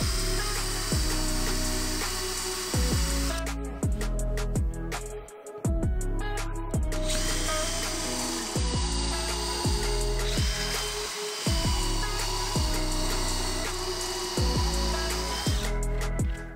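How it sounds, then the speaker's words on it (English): A power drill countersinks holes in a wooden batten, with repeated bursts of whirring and grinding, each start and stop clearly separated, loud and close with no talk. "I countersink some holes around the perimeter so I can fix the batten from the back"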